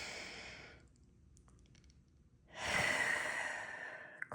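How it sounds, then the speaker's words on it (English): Someone near the listener exhales audibly, pauses briefly, then draws a long, strong breath. The breathing is steady and unhurried, with no voices over it. "Deep breath in."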